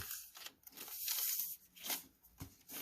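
Lined paper being folded and creased hard, giving dry crackling, tearing-like rustles in several short bursts, close and quiet with no talk.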